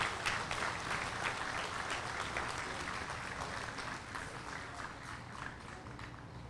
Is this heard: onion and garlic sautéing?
no